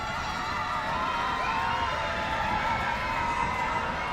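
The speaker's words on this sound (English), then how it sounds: "you hear the crowd trying to will the ball out of the basket" A basketball crowd at a Washington Warhawks versus DuBois Dream game roars steadily during a free throw, producing a dense, continuous wash of shouting and cheering without pause.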